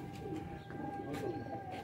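Pigeons coo softly in a loft, low rounded calls repeating steadily over a faint background hum, with no voices present.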